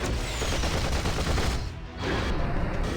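A missile barrage in the Marvel Future Fight mobile game: a dense, continuous roar of rapid blasts and explosions that briefly dips in the middle before surging back, loud and with no voices.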